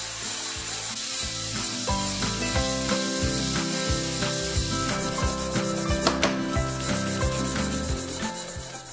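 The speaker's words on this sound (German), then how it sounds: "Denn Glas schleift man immer nass." Steady rhythmic rubbing and scraping of wet sandpaper against glass, back-and-forth strokes repeating closely and loudly with no talking.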